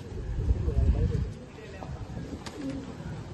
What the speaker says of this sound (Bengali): এবার গিরিবাজ সাদা চোখের পায়রা দেখাচ্ছি